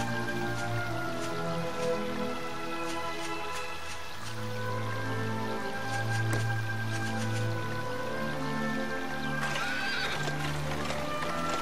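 Horse and carriage in the video game Dragon Quest 8, with steady clip-clop hooves and a whinny rising over a continuous rain-like patter and game music, heard alone at close range.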